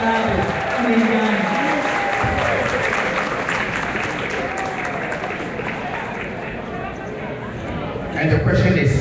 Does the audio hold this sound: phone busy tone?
no